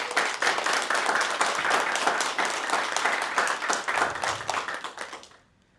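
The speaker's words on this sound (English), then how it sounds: "Can we please give her a round of applause?" Applause for an instructor at a SkillsUSA chapter presentation, a roomful of hands clapping steadily and loudly for several seconds before quickly dying away to silence.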